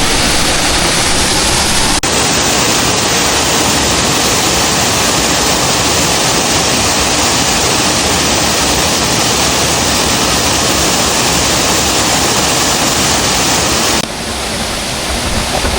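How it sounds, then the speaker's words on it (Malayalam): A steady, loud roar of falling water fills the whole clip without a break, with a slight change in tone near the end. "നമ്മളിവിടെ വെള്ളച്ചാട്ടത്തിൻ്റെ അടുത്ത്"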